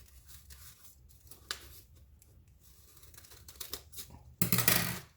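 Scissors cut hearts out of folded paper with soft, close snipping and crinkling, then a louder burst of rustling paper near the end.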